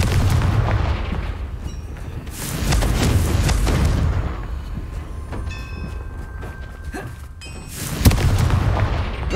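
Confringo spell blasts go off in Hogwarts Legacy, heavy booming explosions with rumbling tails, several bursts in sequence and a sharp hit near the end, loud and close with no talking.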